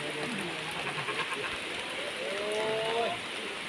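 Heavy rain pouring at an outdoor event in Phon Thong, Roi Et, a loud, steady wash of rain that fills the whole clip, with faint voices underneath.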